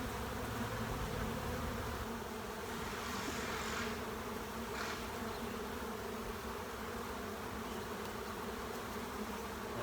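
A honey bee swarm, gathered during swarm season in Florida, buzzes steadily and densely all the way through, close and even, with a few brief sharper hisses near the middle and no talking.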